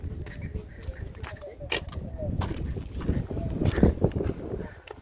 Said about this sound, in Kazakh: О, кәдімгі жел бар екен.